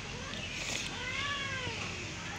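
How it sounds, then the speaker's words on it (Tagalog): Cats fight and bite each other, giving drawn-out wavering meows and yowls over a constant loud hiss of background noise. "Nagkakagatan po yung pusa dito."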